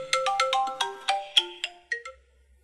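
A phone ringtone plays a bright melodic run of about ten short beeping notes, stepping downward in a quick steady rhythm, close and clear with no voices.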